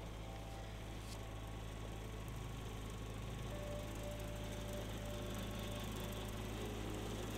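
Mower cutting a rye cover crop in a field: a constant, loud engine drone with a low hum and a broad cutting rush, steady from start to finish and with no talk.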